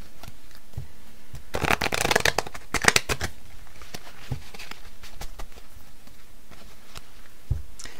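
Tarot cards being shuffled in a quiet room, a dense riffling burst around two seconds, another near three, then scattered soft taps and slides of cards.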